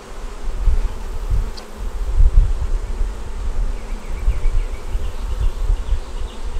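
Honeybees buzzing at an open hive, a dense, continuous low hum that swells and dips steadily with no one speaking.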